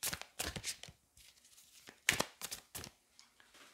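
Tarot cards from a Fallen Angels deck being handled and drawn, a quiet series of close crinkly papery swishes and snaps coming in short bursts with gaps between, with no voices.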